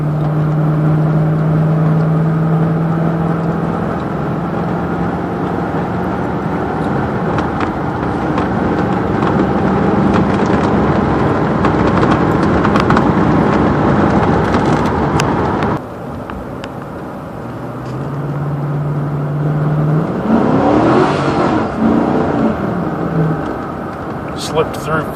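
A 2005 Chevy K1500 pickup with a slipping transmission accelerates from inside the cab. Steady engine drone and road noise rise and fall through uneven shifts, with a drop in pitch partway through and a person talking over it.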